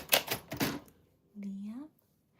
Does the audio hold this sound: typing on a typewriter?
yes